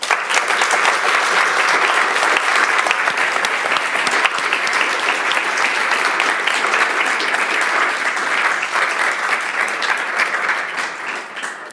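An audience at an award ceremony for dissertations gives sustained, loud applause after a scientific lecture. Dense clapping fills the whole stretch and tapers slightly at the end, with no speech over it.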